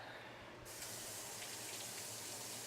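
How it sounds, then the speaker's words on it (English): Water from a kitchen tap runs in a steady stream as a vegetable peeler is rinsed beneath it, starting partway in and then continuing at an even level, fairly quiet and with no voices. "I'll rinse off my vegetable peeler"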